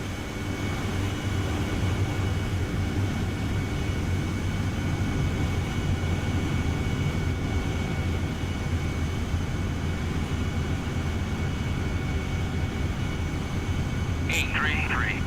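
A Harrier jet on approach to land in the DCS World flight simulator, gear down and flaps in auto: a steady, loud broadband engine roar throughout, with a brief high electronic chirp near the end.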